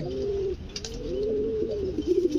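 Pigeons for sale coo close by in repeated soft, rolling calls, one after another, over a faint background murmur without speech.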